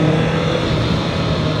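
Honda CB650R naked motorcycle with an inline-four engine, heard as a steady, loud, continuous engine drone held at high RPM with no talking over it.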